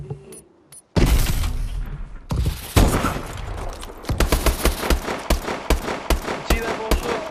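Gunfire in a shooter video game with a sniper rifle: heavy overlapping shots and bursts followed by steady rapid automatic fire, loud and close with no talk.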